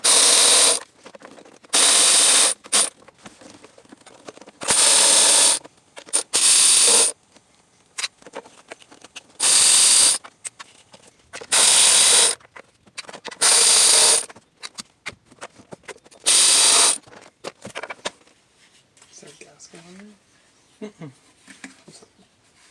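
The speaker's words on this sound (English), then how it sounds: "So we're going to take off all these 10mm bolts." A hand ratchet clicks in repeated loud, close bursts, backing out 10mm timing cover bolts on a Subaru WRX/STI, with quieter handling noises between the bursts.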